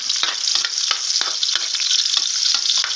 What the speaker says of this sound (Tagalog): Then wait till the garlic is golden brown.